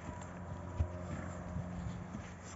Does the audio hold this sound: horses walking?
yes